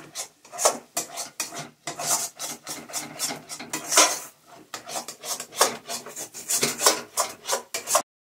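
Green pea filling for puli pitha is stirred and dried in a pan, giving repeated scraping, rasping strokes of a utensil against the metal in an uneven rhythm, close and fairly loud with no talk.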